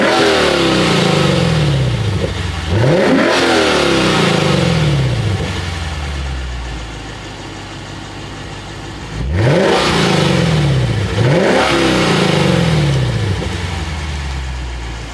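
A 2024 Lexus IS500 V8 in Sport Plus mode revs hard from a standstill, each loud, close blip rising sharply in pitch and then falling back to a throaty idle, repeated in several bursts with pauses between.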